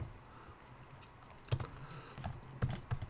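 Quiet keystrokes on a computer keyboard while entering router configuration commands, a few soft clicks in irregular bursts against faint background hiss, no voice heard.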